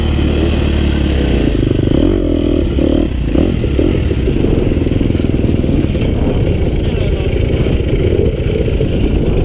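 A 2018 KTM 250 XC-F four-stroke dirt bike being ridden hard through corners, its engine loud and close with a steady buzzing drone, brief revs and dips, and clattering and scraping mixed in.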